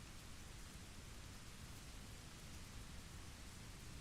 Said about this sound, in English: Rain noises are just so nice.